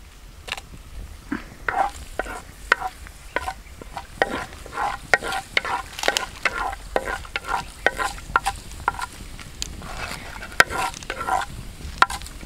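Chillies frying with fenugreek in hot oil for a tender coconut curry: a continuous close sizzle with scattered sharp crackles and pops, steady throughout, no voices.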